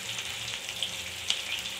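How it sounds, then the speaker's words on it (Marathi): Stuffed bitter gourds frying in a pan as they are turned over, giving a steady, close, moderately quiet sizzle with a few small pops and crackles, no talking. "पलटी करून भाजायचं आहे सर्व बाजूंनी।"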